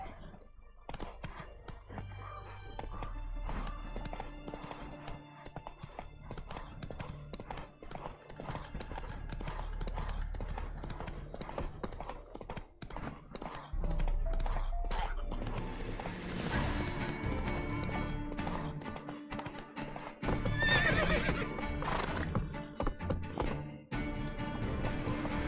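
Horse galloping with clip-clop hoofbeats in a video game, a steady rapid stream of hooves throughout with a brief neigh near the end, loud and close over background game music.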